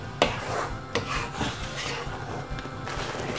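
Spice masala for butter chicken being stirred and fried in a pan, a steady scraping and rubbing of a spoon against the pan with a few sharper knocks, close and continuous with no talk.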